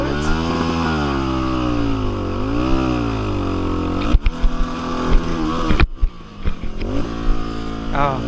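A DR350 dirt bike revs hard while its tire spins in deep trail mud, the engine rising and falling in long sweeps before breaking into choppy bursts of throttle and clatter.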